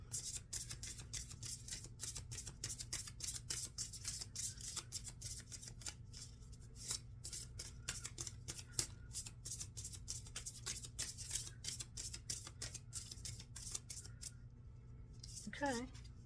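A deck of tarot cards is shuffled in quick repeated riffles, a dense run of crisp snapping flutters close up, while a voice speaks quietly over it.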